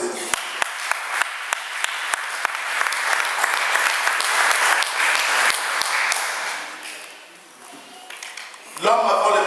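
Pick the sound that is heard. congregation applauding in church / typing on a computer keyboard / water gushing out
congregation applauding in church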